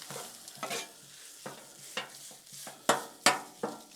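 Italian sausage sizzles on a Blackstone flat-top griddle while a metal spatula chops through it in sharp, irregular scrapes and clacks, louder strikes near the end over a steady background sizzle, with no talking.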